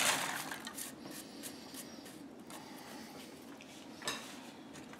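Bacon pieces tossed in a mixing bowl for a quiche, with soft clinks and rustling scrapes of utensil against the bowl, fairly quiet and close, a few sharper taps standing out.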